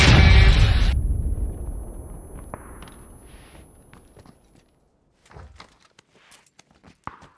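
A C4 charge detonating in PlayerUnknown's Battlegrounds, one loud close blast that rolls off into a long fading rumble, followed by scattered quiet thuds and footstep-like knocks.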